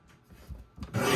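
A paper trimmer cutting a sheet of lavender metallic paper: a short, close rubbing slide of the blade that ends in a louder rasping swipe, with nothing else heard.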